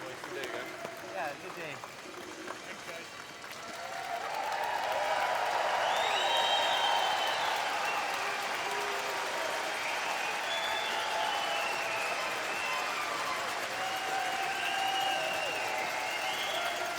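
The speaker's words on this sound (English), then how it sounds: "crowd saluting both sides" Arena crowd applauding both teams after Canada's 10-2 round-robin win over Japan at the 2017 World Men's Curling Championship; sustained clapping swells in after a quieter opening and holds steady, full and fairly close.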